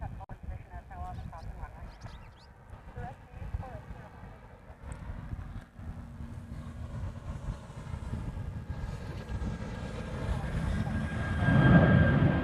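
A Southwest airliner departing Honolulu climbs overhead, its jet roar building slowly from a distant rumble to a loud peak near the end, with chatter heard underneath.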